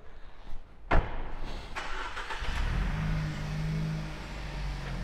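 A Mercedes S-Class petrol car cranks with a sharp burst, then catches and settles into a steady, close idle hum that continues to the end, with no one speaking.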